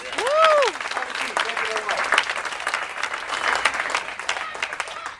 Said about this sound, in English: Can you give him a big round of applause, please?